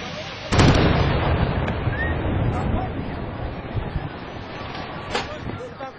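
A sudden heavy blast bursts in from a liquefied petroleum gas station explosion in Crevidia, Romania, followed by a long roaring rumble and wind-like noise, with a couple of sharper pops later.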